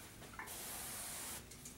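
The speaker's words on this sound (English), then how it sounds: "Just go ahead and spray a band of material across the top" A sprayer lays a band of treatment material across the top of a hotel bed headboard, giving a single steady, close hiss lasting about a second before it cuts off.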